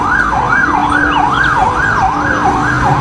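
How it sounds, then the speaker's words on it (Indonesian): A fire truck siren wails loudly and continuously in a rapid rising-and-falling pattern, close and steady throughout. "kalau yang ini mobil pemadam kebakaran"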